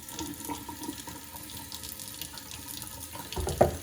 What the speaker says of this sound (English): I always wash my hands with warm water and soap for 20 minutes